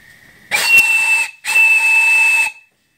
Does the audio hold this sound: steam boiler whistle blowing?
yes